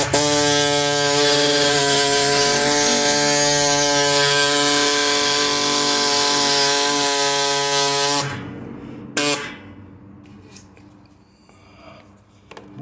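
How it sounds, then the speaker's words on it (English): A reciprocating hacksaw cuts through the metal collar of a rear suspension bush on a Vauxhall Vectra GSI, a loud steady buzzing rasp that runs about eight seconds, then stops with a few brief bursts and workshop clatter. "which is just a reciprocating hacksaw. It'll just cut through the collar enough for us to shrink it down and pull it out."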